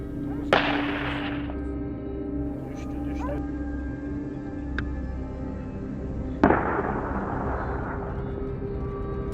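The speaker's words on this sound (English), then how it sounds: "From the hilltop, we locked onto each target, taking them down with precise shots." Two sharp rifle gunshots during a wild boar hunt from a hilltop, one early and one later, each a loud crack with a trailing echo over steady outdoor background noise.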